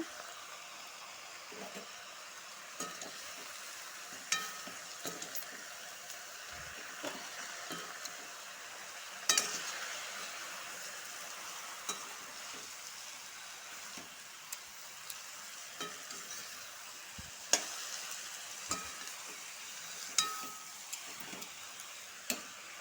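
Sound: potatoes and turmeric frying and being stirred in pan

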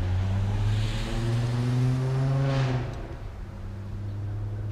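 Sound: car with loud aftermarket exhaust passing

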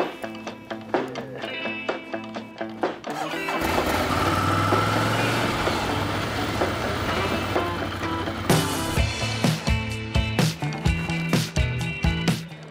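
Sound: motorcycle engine running

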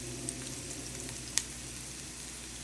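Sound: onion and radish frying in oil for pickle

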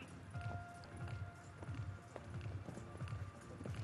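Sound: horse hooves clip-clopping in show jumping arena

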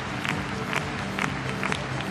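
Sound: crowd cheering and applauding at show jumping event in Bremen

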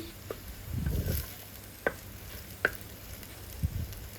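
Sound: ginger garlic paste frying in pan for fish curry

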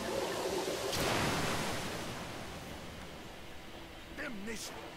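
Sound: river water in the video game Metro: Last Light

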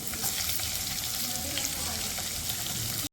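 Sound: chopped green chillies sautéing in oil

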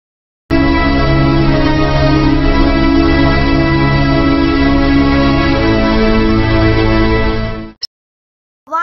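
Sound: violin playing

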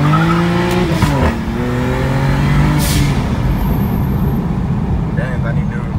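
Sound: BMW E90 335i accelerating in first and second gear

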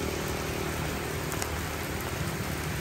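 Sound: heavy rain falling outdoors

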